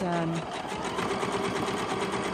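A sewing machine stitches around the outside of a junk journal cover, running in a steady, close mechanical whir throughout while a person talks over it.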